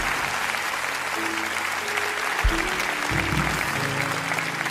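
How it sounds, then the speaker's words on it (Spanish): A church congregation claps steadily through a dense, sustained round of applause that fills the hall, with a few low tones sounding underneath. "Les un aplauso a estos hermanos."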